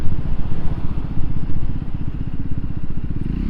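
A Triumph Scrambler 400x motorcycle rides steadily along, its mid-pitched engine pulsing in a continuous, fairly loud rhythmic thrum close by, with no one speaking.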